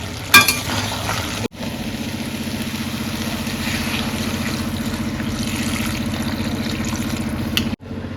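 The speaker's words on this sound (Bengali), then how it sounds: "বেশ অনেকক্ষণ ধরে এখানে কষাচ্ছি একটু ঢাকা দিয়ে দিয়েই করছি" Curry being sautéed under a lid in a pan, a steady low bubbling sizzle running continuously between brief clatters at the start and end, with no talking.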